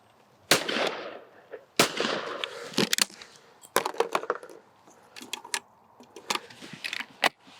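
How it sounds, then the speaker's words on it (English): Miroku MK38 trap shotgun fired at a trap range, with several sharp, loud reports spread unevenly across the clip, some spaced far apart and others in quick succession, plus lighter clicks and clatter between shots. "Now I'm going to try the trap gun"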